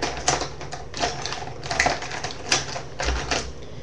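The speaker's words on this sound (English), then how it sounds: "It sounds like it's sharpening, but it doesn't really sharpen." A manual pencil sharpener, worn and no longer cutting well, is cranked on a pencil, giving a rapid rattling, grinding whir in several short bursts, close and fairly loud with no talk.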